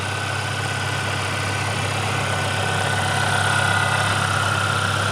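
A 2025 Ford Maverick Lobo idles with the hood open, a steady mid-low engine hum under a ticking valve-train clatter and a faint high whine, even and continuous at close range with no talking.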